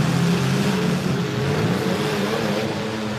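Demolition derby cars with several engines roaring on the throttle at once, a loud, continuous, rough drone with shifting pitch and no pause, close and without talking.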